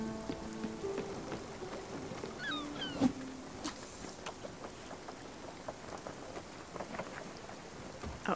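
Steady rain patters in a Spiritfarer game scene, broken by a sharp thunder-like crack near the three-second mark, with soft scattered drops and faint game tones around it.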